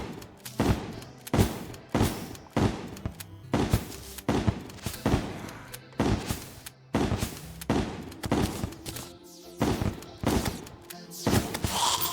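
A pump shotgun in the video game Terraria fires repeatedly in a steady rhythm, sharp loud blasts spaced under a second apart, with brief pauses between shots.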